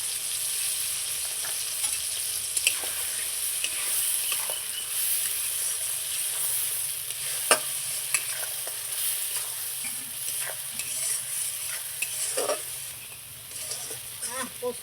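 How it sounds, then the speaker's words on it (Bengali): Ridge gourd frying in a pan with poppy seed paste, giving a steady sizzle with scraping stir strokes throughout, moderately loud and continuous. "আমি ঝিঙ্গাটা আর একটু ভেজে নেবো, তারপরে আমি পোস্তটা দিয়ে দেবো।"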